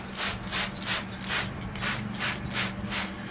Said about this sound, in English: I'm going to begin by spraying the tree with the soap and water.